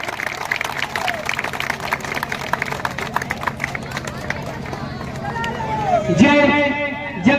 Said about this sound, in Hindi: एक बार ताली बजाकर मुख्य अतिथि का हार्दिक अभिनंदन करें